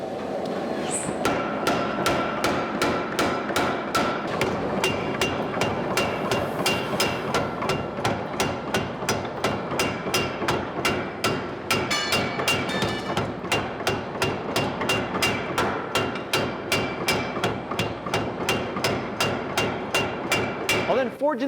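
A Baudry No. 11 power hammer forge welding a Damascus steel billet, pounding in a loud, fast, steady rhythm of heavy metallic blows that runs unbroken for the whole stretch.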